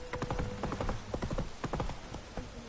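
Roach, a horse in The Witcher 3, trotting with a brisk run of hoof clip-clops, close and distinct, with faint game ambience underneath and no talk.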